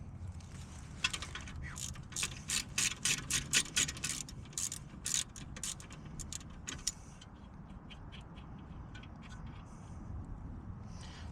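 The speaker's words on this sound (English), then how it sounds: "Now what we're gonna go ahead and do is take off the rest of this bolt," Ratcheting and clicking metal as a bolt is worked loose on the passenger-side tie rod end of a 1998 Subaru Forester, a fast burst of ratchet clicks followed by sparser taps, close and moderately loud over a low rumble.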